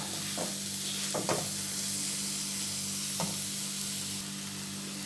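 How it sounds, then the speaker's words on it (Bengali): Papaya laddu mixture being stirred in a pan over the flame: repeated scraping strokes of the spoon over a steady, soft sizzle, close and unaccompanied by talk. "এবার আমি আরেকটু নেড়ে নেব একটা মন্ড মতো তৈরি হয়ে যাবে আর একটু নাড়ব"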